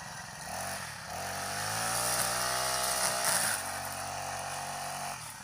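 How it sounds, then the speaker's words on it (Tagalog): A grass cutter engine drones steadily and loudly with a harsh, buzzing whine that strains and dips slightly as the line gets tangled, running continuously without talk. "Wala ay, suko ang grass cutter."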